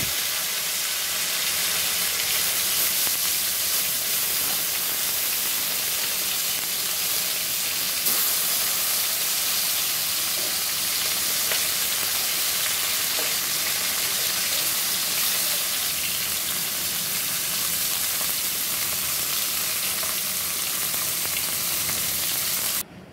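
Fish frying in hot oil in a home kitchen, flipped over and sizzling with a loud, dense, continuous crackle and hiss that never lets up.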